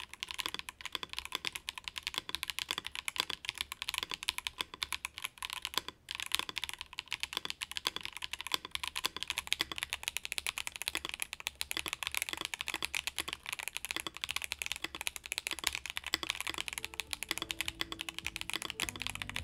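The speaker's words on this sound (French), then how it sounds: "je vous passe quand même les tests audio pour vous faire votre propre avis" An AKKO 5075B Plus ISO mechanical keyboard is typed on continuously, a dense, even stream of close, soft clacking keystrokes with no voices.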